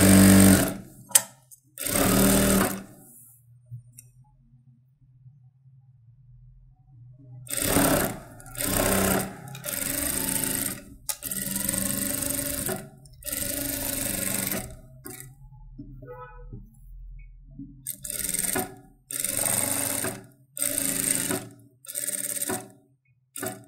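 Sewing machine stitching a saree blouse, bursts of fast mechanical whirring separated by quiet pauses, close and clear, running in short stop-start runs.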